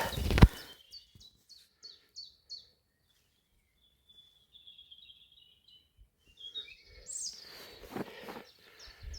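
Small birds chirp along the Camino de Compostela between Espalion and Golinhac, bright short tweets in quick bursts at first, then scattered calls, with a loud thump at the start and rustling noises later.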